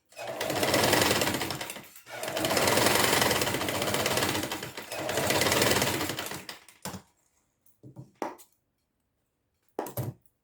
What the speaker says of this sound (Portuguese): E agora vamos costurar.